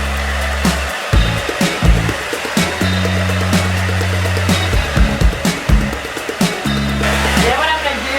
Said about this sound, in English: take out my round brush, and I'm gonna blow them out.